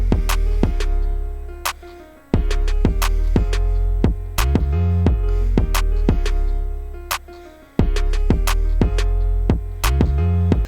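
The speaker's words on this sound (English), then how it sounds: "I just made the bass kind of go with the chords, and then let's hear the breakdown." Hip hop beat breakdown, with bass moving along with the chords under a steady rhythmic pattern, dropping out briefly twice before the full beat returns.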